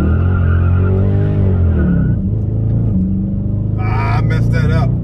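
A Dodge Charger Scat Pack Widebody launches for a 0-60 run with its wheels spinning. The loud engine rumble climbs steadily in pitch, eases off briefly, then rises again, close and continuous, with gear changes audible along the way.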